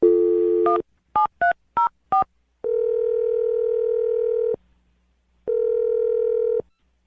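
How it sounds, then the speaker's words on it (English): Telephone dialing a phone number: a dial tone, then five quick touch-tone beeps, followed by two long ringback tones separated by silence, loud and clear with no talk. "I'm going to dial her phone number right now"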